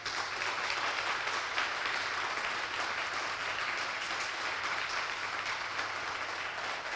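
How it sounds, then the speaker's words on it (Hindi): Hearty audience applause fills a hall at a network marketing seminar for senior colleagues who appeared on stage, a dense, even wash of clapping that holds steady and loud throughout. "उन सबके लिए एक बार जोरदार ताली बजा दो"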